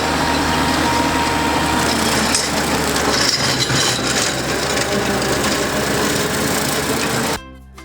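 Lawn mower pushed through long grass with blades lowered, a loud steady engine drone with a dense cutting rush that cuts off near the end.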